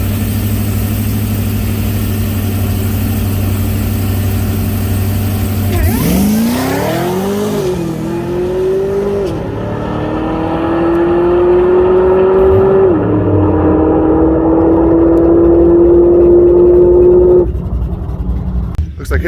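A stock-engine Cadillac CTS-V on a drag strip idles loudly, then launches and accelerates hard, its engine note climbing through a long pull before shifting and fading into the distance.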